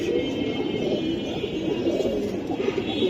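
Giribaz pigeons, including a Sapchila hen, coo in a low, steady, overlapping murmur close at hand at a pigeon sale, with faint background noise and no clear talk.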